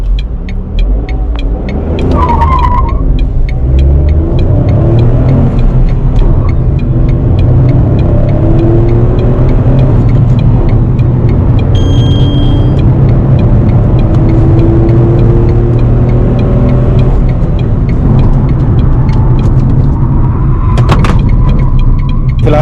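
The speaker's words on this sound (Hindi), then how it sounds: "चलिए एक बार हम 0 to 100 पेट्रोल में भी करके देखते हैं कितना टाइम लगता है।" A Tata Nexon CNG hatchback running on petrol accelerates hard from standstill toward 100 km/h, its engine note climbing through gear changes as a steady loud rumble of engine and road noise fills the cabin, with no talking.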